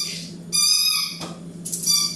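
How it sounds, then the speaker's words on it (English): A pet dog plays with her squeak toy, giving two sharp high-pitched squeals in quick succession, fairly close and loud, each lasting under a second, over a quiet room hum. "that's my dog playing with her squeak toy."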